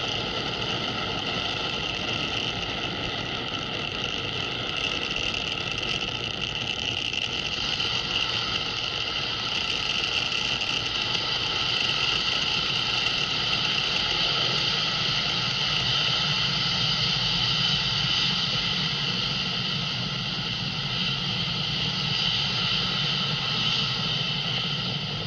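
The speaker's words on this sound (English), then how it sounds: "You are watching Falcon 9 accelerate spaceflight's Sherpa LTC-2 and our Starlink satellites out into space." Falcon 9 rocket engines thundering during ascent as the vehicle carries Starlink satellites and a Sherpa LTC-2 into space, a steady distant roar with broadband rumble and hiss holding constant throughout.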